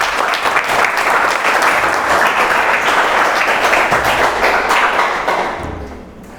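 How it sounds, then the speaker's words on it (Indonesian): Students in a classroom clap together in a full, even burst of applause that holds steady before tapering off at the end. "berikan tepuk tangan dulu anak-anakku sekalian"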